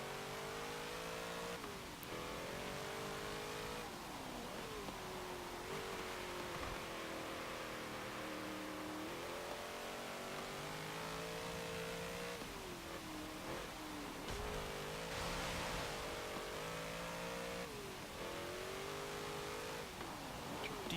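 A 2014 Chevrolet SS engine in the racing game Forza Motorsport 7, revving up and down through gear shifts over a sustained lap, a loud continuous rising and falling engine drone with no talk.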